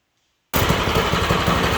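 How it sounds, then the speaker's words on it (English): A Coleman CT200U-A mini bike fitted with a Tillotson 212 engine idles steadily after a brief silence, a loud, close, even rumbling putter with no voices. "hopefully I got the idle right on it"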